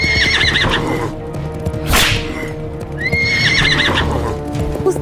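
An animated horse gallops with steady clip-clop hoofbeats while whinnying and neighing loudly twice, close up, with no talking.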